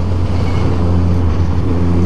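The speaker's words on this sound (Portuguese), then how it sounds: "Olha o lotão de moto passando" A group of motorcycles rides past on a city street: a dense, continuous rumble of engines and road noise holds steady and fairly loud for about two seconds.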